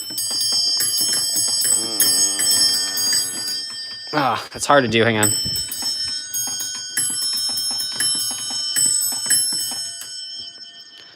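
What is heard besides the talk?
ringing victory bells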